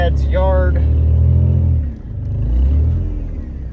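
An old Ford Ranger pickup drives along, its engine giving a loud, steady low rumble that dips briefly and swells again, with someone talking over it.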